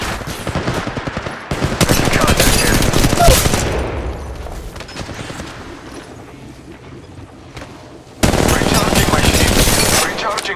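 Rapid bursts of weapon fire in Apex Legends Mobile, loud and close, in two dense volleys separated by a quieter stretch of scattered shots and game sounds.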